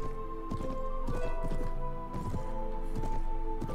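Horse hooves clop in a steady, rapid rhythm while riding in the video game Mount & Blade Warband, close and fairly loud over sustained background music.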